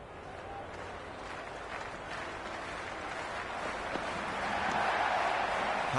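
A cricket stadium crowd roars before an IPL match between RCB and GT, a broad, steady wash of distant cheering and noise that swells gradually louder toward the end.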